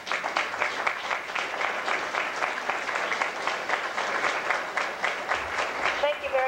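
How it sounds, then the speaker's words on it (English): A room of people gives standing volunteers a steady round of applause at a volunteer appreciation event, dense even clapping throughout before a voice begins speaking at the end. "Will all my volunteers please stand up so we can give you a special round of applause?"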